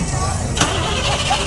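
A carbureted Chevy engine cranks at a car show, with a dense, loud mechanical churn throughout and a brief surge as it tries to catch.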